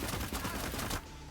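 Gunfire from the tactical video game Cyber Knights: Flashpoint, a dense burst of loud, overlapping shots for about a second that abruptly cuts to a quieter ambient tail.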